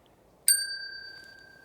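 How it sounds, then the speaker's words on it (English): A small bell on top of a gravestone is tapped once, giving a bright metallic ding that rings on steadily and slowly decays in a quiet graveyard. "If you tap the top of the bell, it'll make this noise."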